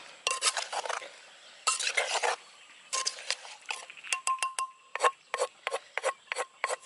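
Rice noodles being mixed into Thai papaya salad outdoors in a rice field, with rapid scraping and clinking of a utensil against a bowl or mortar in uneven bursts, then a quicker regular rhythm of taps.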